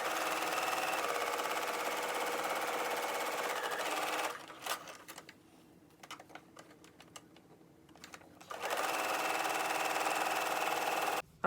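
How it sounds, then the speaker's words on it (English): Sewing machine stitching the long sides of a fabric tab: a fast, steady mechanical whir that runs for about four seconds, drops to a pause with faint handling, then starts again and stops abruptly, close by. "So I'll be sewing the two long sides together."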